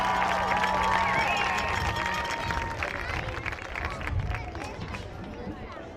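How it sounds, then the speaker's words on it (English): Audience applause and crowd noise at a school football academy recognition event, a steady wash of clapping and murmuring that gradually thins over several seconds, with a faint tone lingering early on. "Let us give a round of applause to Madeline."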